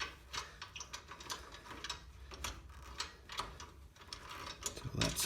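A ratchet wrench clicking steadily as it loosens an exhaust bolt on a Harley-Davidson Softail Slim, a close, fairly quiet run of rhythmic pawl clicks in repeated strokes.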